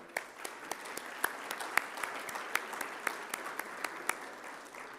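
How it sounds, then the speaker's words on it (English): Audience applause at a tourism industry gathering in Arizona, a broad sustained clapping crowd with frequent crisp individual claps standing out close by, steady for the whole span. "please give yourselves a round of applause for all you do"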